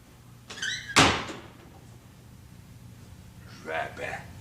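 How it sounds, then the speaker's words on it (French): A wooden door pulled shut with a single sharp thud in a rustic interior, preceded and followed by brief voices speaking French. "Tire la porte!"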